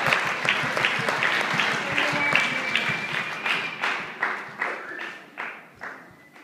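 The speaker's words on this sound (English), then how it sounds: "let's give a big round of applause for Rachel." An improv show audience bursts into lively applause with some whoops, dense at first and then thinning into scattered individual claps as it tapers off.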